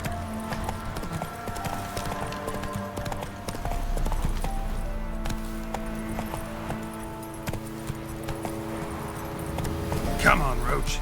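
Hoofbeats of the horse Roach in The Witcher 3, a steady clip-clop of a walking horse on the ground with a brief whinny near the end, heard under continuous game music and a speaking voice.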